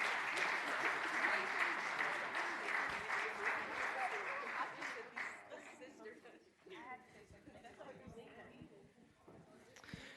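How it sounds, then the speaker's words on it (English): Applause from an audience at a county public meeting, a dense steady round of clapping that thins and fades over the second half, with faint voices underneath. "Let's give them one more round of applause"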